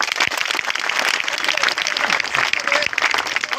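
An audience claps together at a district development office inauguration event in Bundi, a dense steady patter of hands with some crowd murmur mixed in, sustained for a few seconds.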